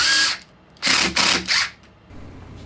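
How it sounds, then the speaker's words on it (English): A power drill drives screws into the back of a wooden table, three short bursts of whirring separated by brief pauses, close and loud. "running some screws in it to hold it in place"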